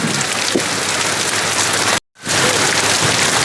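Heavy rain pours down in a village, a loud, close, hissing downpour that fills the whole clip, broken once by a very brief gap of silence before resuming just as strong.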